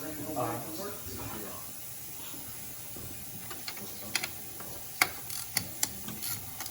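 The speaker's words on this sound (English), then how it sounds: "Crack these nuts loose." A ratchet wrench loosens nuts on a BMW 328i engine during a head gasket job, with several sharp clicks toward the end following a stretch of low shop noise and faint talk.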